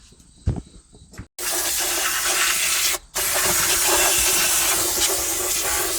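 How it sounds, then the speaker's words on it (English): A strong, loud hissing water spray washes out a tire, running steadily and close with one brief pause, after a few quiet knocks. "let's wash it out real good and get to the next step"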